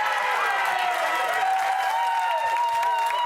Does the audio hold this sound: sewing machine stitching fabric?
no